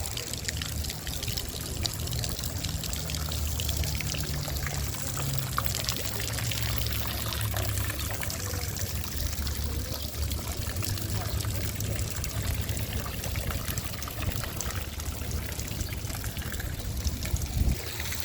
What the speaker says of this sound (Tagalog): Ang ganda ng fountain nila dito oh.